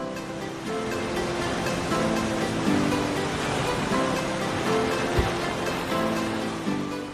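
Ocean waves wash steadily onto a beach, a continuous broadband surf roar that swells and recedes at a constant, fairly loud level with no voices.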